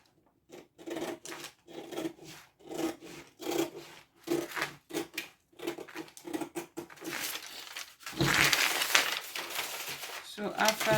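Scissors or a blade cut through pattern paper for an off-shoulder bustier, making a run of short rhythmic rasping snips close by, ending in a louder rustle of paper being handled.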